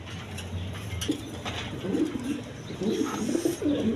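A pigeon at a bird market coos in soft, low repeated phrases close by, with faint clinks and background bustle in the cages around it.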